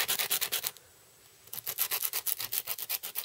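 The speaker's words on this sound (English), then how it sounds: "you always want to be sanding flush to a piece" A sanding sponge rubs a Gundam plastic model piece flush in quick, even back-and-forth strokes, close and crisp, pausing briefly for under a second before the rhythmic scratching resumes.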